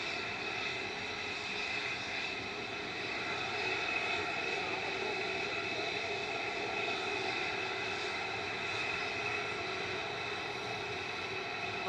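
Continuous roar of jet airliner engines, Ryanair and Jet2 aircraft waiting and lining up for departure at Manchester Airport, a steady, moderately distant rumble with a constant whine layered on top.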